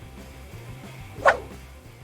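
A pet dog attacking and driving off a thief lets out one sharp, brief bark that stands out over a low, steady background hum.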